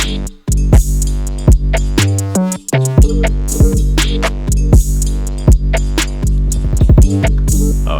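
Sharp claps snap through a dense, loud remixed hip-hop beat. They land repeatedly in rhythm over deep bass and layered synths.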